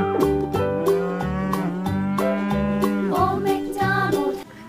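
A cow in a corral gives several loud, drawn-out moos one after another, each long low call rising and falling in pitch, close by with no talking over them.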